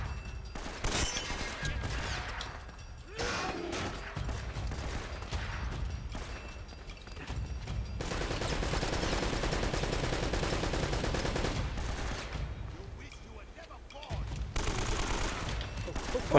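Gunfire in the video game Uncharted: Drake's Fortune Remastered, bursts of loud shots and rapid volleys in a firefight, with a voice over the action at times.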